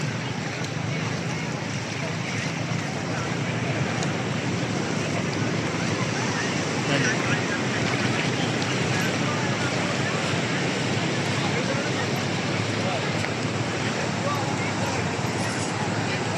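Large ocean waves roar and break continuously on the beach at Cox's Bazar, a loud, dense wash of surf mixed with wind buffeting the microphone.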